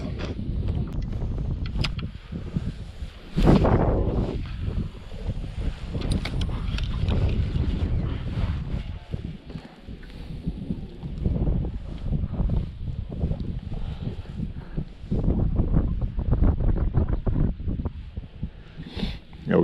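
Steady wind gusting across open water during a fishing trip, buffeting the microphone with a continuous low rumble and occasional louder blasts, no voices.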